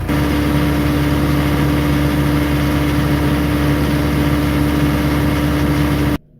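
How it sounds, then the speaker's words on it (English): A Caterpillar 307C excavator engine runs at high idle during pilot system tests, making a loud, steady diesel drone with a constant low hum. It cuts off abruptly at the end. "I'll rev it up to high idle and we'll see what we get."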